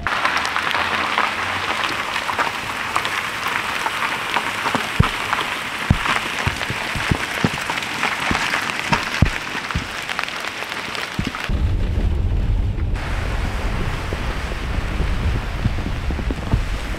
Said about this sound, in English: it's raining quite a lot too